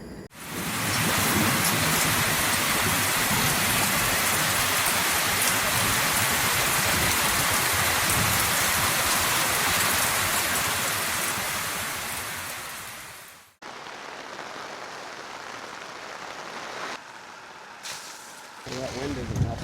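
Heavy rain pounding a campsite in Canada during a violent storm as a wall cloud passes: a loud, roaring, continuous downpour that cuts off abruptly, then gives way to quieter, uneven rain and rustling.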